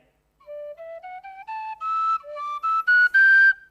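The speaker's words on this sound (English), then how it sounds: "You haven't sound checked the whistle" A pitched whistle plays a rising run of short distinct notes, each clear and bright, climbing step by step before stopping.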